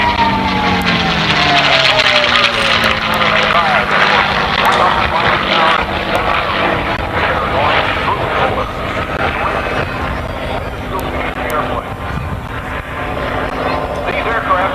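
P-51 Mustang World War II fighter, the Cadillac of the Skies, powered by a Rolls-Royce Packard engine, flying at an airshow in Sussex, New Jersey: a steady, loud engine drone with a slowly shifting pitch that fills the whole stretch, with someone talking over it.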